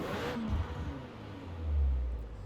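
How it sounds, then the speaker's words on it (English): A 2018 Alpine A110 engine in Forza Horizon 4 hums low and steady, then swells into a breathy intake whoosh as it revs up, with no talking. "You get a lot more of the whooshing intake noises more than anything"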